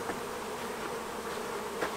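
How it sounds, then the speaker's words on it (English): Honey bees swarm and buzz steadily all around during a honey harvest done without a bee suit, a dense, continuous close drone with no voices over it. "There's bees like all around you."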